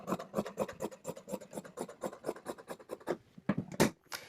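Scissors cut along the bottom edge of folded cloth to even it out while a round-neck maxi dress is being cut, making close, soft crunching snips in a quick, repeated rhythm with brief pauses.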